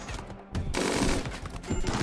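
Rapid automatic shotgun and pistol fire in the colony game RimWorld, a dense burst of shots after a brief lull, loud and close with no talk.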